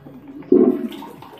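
A toilet flushes in a bathroom with a short, muffled gush of rushing water that swells suddenly and then fades into a quieter gurgle, nearby and alone.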